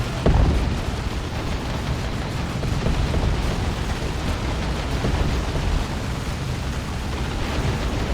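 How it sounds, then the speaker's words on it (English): Explosions from a Blight Grenade thrown in Dawn of War 2, a Chaos Space Marines versus Ork battle: a sharp loud burst at the start, then a dense, continuous rumble of battle noise throughout. "That was a really good Blight Grenade throw, though."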